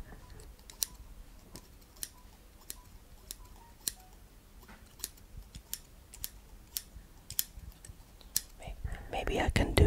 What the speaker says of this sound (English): So let's hear the scissors.